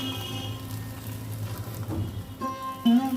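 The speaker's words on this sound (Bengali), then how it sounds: "দিয়ে এবার আমি এপিট এপিট করে ভেজে নেব।" Wheat flour roti frying in oil in a pan, a steady close sizzle and crackle with soft stirring or pressing noises and a few brief clinks near the end.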